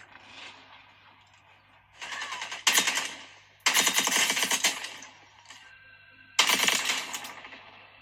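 Bursts of rapid automatic gunfire from Warzone played on a VIVO V50 smartphone crackle in three loud clusters separated by quieter mechanical clatter and game sounds.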